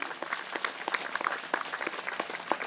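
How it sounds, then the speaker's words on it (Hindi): A church worship gathering at a healing prayer service claps for the Lord, a busy crowd of hands producing continuous, even applause with scattered louder claps. "तालियां बजाइए प्रभु के लिए"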